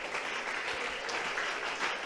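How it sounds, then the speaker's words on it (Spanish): Church congregation applauding: a dense, even wash of many hands clapping at a moderate distance, steady for a couple of seconds with no clear speech on top. "Si hay una ofrenda más de aplausos para el Señor,"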